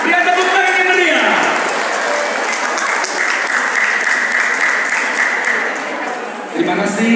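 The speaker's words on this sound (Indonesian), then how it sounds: "Dia tepuk tangan yang meriah." Audience at a first Miss Qiān Xū pageant applauding a second-place Best Costume award: a loud, sustained burst of many people clapping, with a voice heard just before it starts and again as it dies away.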